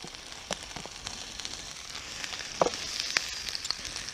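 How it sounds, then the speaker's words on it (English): Chopped onion, pepper, tomato and chilli heat through in a camping pan at a wild hammock camp, giving a quiet, soft sizzle with scattered pops and crackles rising slightly toward the end. "Just give the veg a little heat through"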